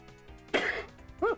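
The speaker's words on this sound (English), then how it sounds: "some of these coughs and sneeze sneak up on me" A single throat clear bursts out after a quiet lead-in, followed moments later by a short, voiced cough, both close and fairly loud against a faint background hum.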